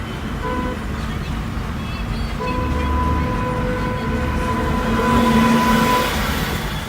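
Loud rumbling of a train at Howrah station with steady mechanical hum and tonal whines, a busy platform atmosphere, and voices murmuring underneath.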